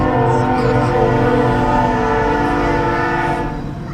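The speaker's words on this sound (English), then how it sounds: "There's a train." A train rolls loudly past a nearby railroad crossing, its horn blaring with sustained tonal blasts over the heavy rumble of wheels and cars, steady for several seconds before beginning to fade.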